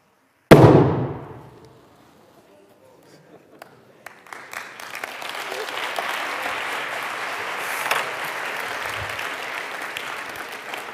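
A hydrogen-filled balloon bursts in a single loud, sharp bang during a demonstration at a closing ceremony. A short quiet follows, then a crowd breaks into sustained applause.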